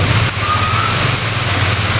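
Heavy overnight rain pours down at a house in Quezon Province, Philippines, a steady, loud hiss of water with no letup.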